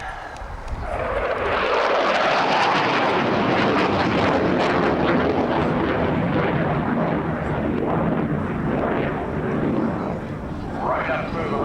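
A military jet roaring past at the 1989 RAF Scampton airshow, a loud sustained engine rush that swells, sweeps in pitch as it passes and lingers, with wind buffeting and commentary voices beneath.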